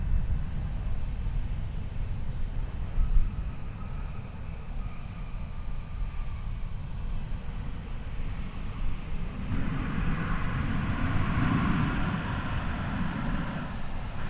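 A Boeing 787-9 Dreamliner taking off at DFW Airport, a sustained low jet-engine roar heard from a distance that swells and brightens in the later seconds, with no talking.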